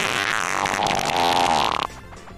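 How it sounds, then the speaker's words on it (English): A fart sound effect dubbed over a comedic gaming moment, a loud continuous squeaky blat lasting nearly two seconds before cutting off abruptly into quieter background. "Just put a fart noise over it."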